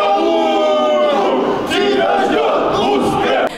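Football supporters at a match between a Kaluga team and its opponents shout and chant together in a loud, continuous crowd roar with many overlapping voices, close and intense for several seconds.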